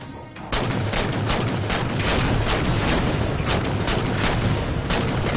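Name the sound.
gunfire in video game Halo 4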